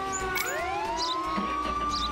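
A police siren in the video game Contraband Police wails with a rising sweep that settles into a sustained tone, loud and steady over constant engine and road noise.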